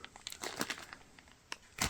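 Plastic bags and twist ties crinkle and rustle around a retro Japanese game item as it is unboxed, bursts of close crackling scattered across the span with a sharp final flurry.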